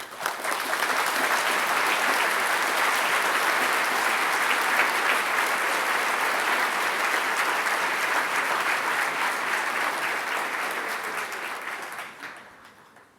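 A graduation ceremony audience at GMIT applauds standing Applied Freshwater and Marine Biology graduates, a loud, sustained wash of many hands clapping that holds steady for over ten seconds before tapering off at the end.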